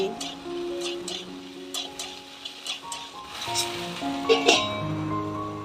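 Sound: stirring vendi potato curry in a pan

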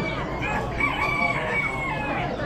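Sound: guinea fowl calling at an Amish animal auction

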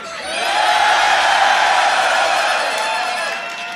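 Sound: crowd cheering at Grand Beatbox Battle 2019

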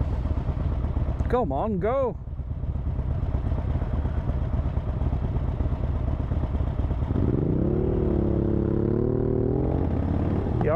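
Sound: motorcycle climbing steep Hardknott Pass

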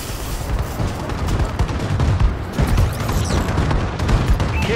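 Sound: bombing run explosions in Call of Duty: Advanced Warfare video game

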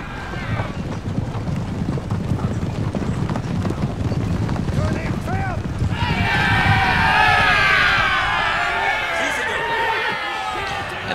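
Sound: cavalry horses galloping in video game Napoleon: Total War

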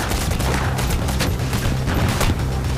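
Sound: explosion in the video game Payday The Heist

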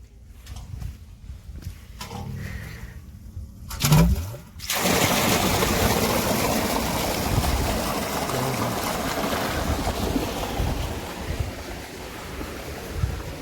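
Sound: irrigation water pump motor running in a field

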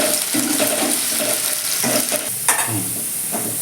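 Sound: sliced onion frying in oil

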